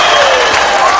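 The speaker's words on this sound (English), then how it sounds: "Look at that crowd. That's the Luminosity cheering section right there." A Counter-Strike match crowd cheering for Luminosity, a broad sustained roar of voices with applause, loud and dense throughout.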